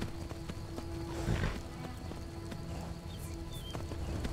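Horse hooves clip-clopping in the video game Skyrim, moderately loud rhythmic hoof falls over a low ambient bed, with a brief louder rustle partway through and no talk.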